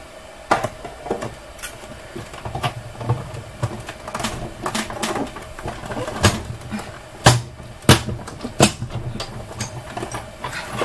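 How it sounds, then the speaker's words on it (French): An electronic die-cutting machine cuts paper up close, giving a steady mechanical whir with repeated clicks and sharp ticks at an uneven rhythm, without speech. "Et avec le plus grand que je vais découper ici. Avec la machine à découper."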